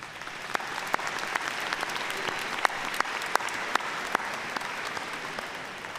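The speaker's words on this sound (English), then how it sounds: "Let's give them all a round of applause" Commencement ceremony crowd at South Central College gives a round of applause for faculty and staff who earned new credentials, a steady, full clapping wash with sharp individual claps popping out.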